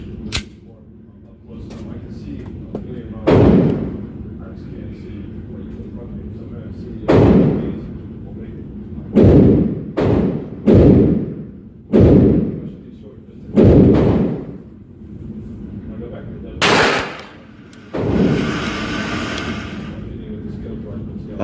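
Rapid fire from a .22 long rifle P22 pistol at an outdoor range: about a dozen sharp, loud reports spaced irregularly, some in quick pairs, with faint background murmur between shots.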